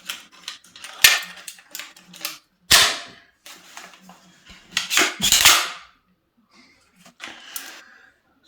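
A Milwaukee 18-gauge nail gun dry firing while door architrave and skirting are fitted, giving sharp, loud percussive snaps spaced irregularly, with quieter clicks and handling knocks between them.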